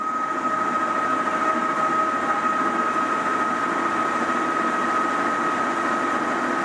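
A Hankook Protec-9NC hollow spindle CNC lathe running at 250 RPM, giving a steady, loud mechanical hum with a constant tonal whine that holds level throughout.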